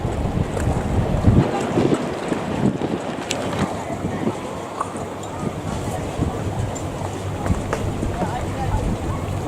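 Steady wind buffets the microphone, roaring low and constant, with a faint wash of water and boat noise beneath it, at Balmoral harbour in Sydney.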